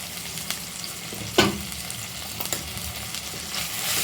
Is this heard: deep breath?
no